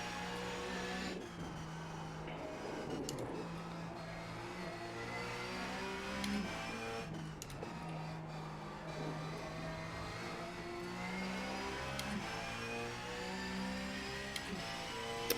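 A Porsche 911 Cup race car engine in the iRacing sim on the Nordschleife drones steadily, rising and falling in pitch through gear changes and throttle lifts, with no talk.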